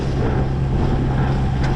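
A boat pushing through rough 2.5 to 3 foot waves in the wind, heard as a steady, loud rumble with constant wind buffeting the microphone and no pauses.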